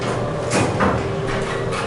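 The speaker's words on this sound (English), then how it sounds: "I like how the door closes when you push a button." A Mowrey hydraulic elevator door at a Courtyard by Marriott in Winter Haven, Florida, sliding shut with a continuous rumbling glide, a few soft bumps and a low hum, loud and close with no talk.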